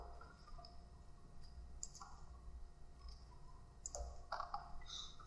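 Mouse clicks in NX CAD software, a few sharp light clicks around the two- and four-second marks, close and quiet over a low steady room hum.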